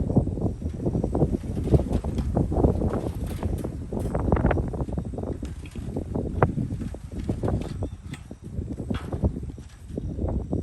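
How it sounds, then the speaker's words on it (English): Steady, loud wind buffets the microphone outdoors by a fenced goat pen, a continuous rumbling roar with gusty swells and no voices. "it's a little windy, so bear with me"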